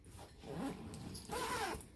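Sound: zipping up a dog travel bag

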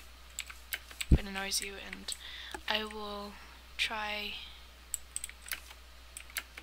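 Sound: clicky computer keyboard typing

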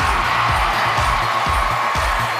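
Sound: pageant audience cheering

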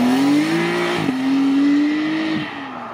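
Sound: supercar leaving the runway event

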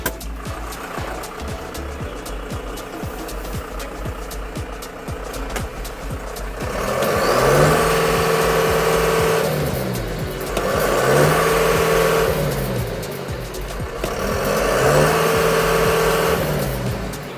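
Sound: tractor diesel engine running

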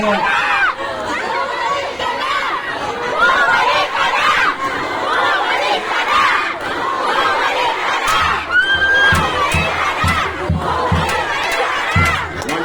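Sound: noisy crowd shouting at a campaign rally

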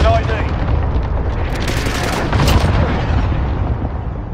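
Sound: cluster strike explosions in a video game

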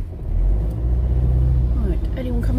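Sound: lorry passing on road

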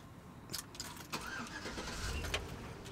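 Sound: 2005 Chevrolet Tahoe Z71 engine starting

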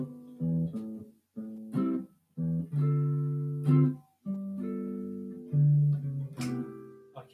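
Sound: looped jazz chord progression in C

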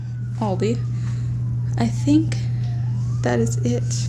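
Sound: sirens in the background

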